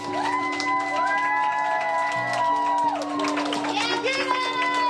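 Students and staff lining a Green Elementary school hallway cheer and clap for a boy, producing a dense, continuous wash of applause mixed with high children's shouts and whoops, close and lively.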